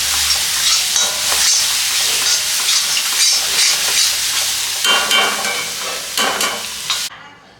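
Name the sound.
onion and ginger-garlic paste frying in oil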